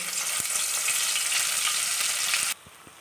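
Ground masala paste meant for a spicy vajdi fry hits hot oil in a pan and crackles in a loud, close, dense sizzle that drops sharply to a softer hiss near the end.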